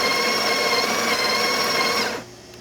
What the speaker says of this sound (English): let's go ahead and do another one for the amount it's grinding